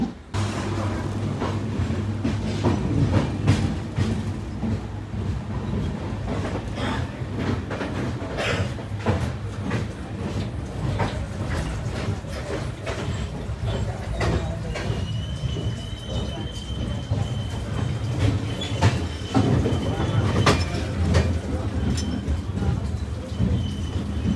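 Inside a coach of a moving train running from Trivandrum to Chennai, a continuous rumbling rattle with intermittent clanks and squeaks, steady and loud for the whole stretch, with people talking at times.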